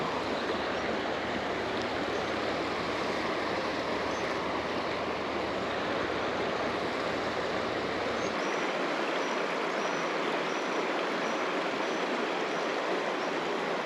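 Creek water rushes and burbles in a continuous, close, even wash that fills the whole stretch without pause.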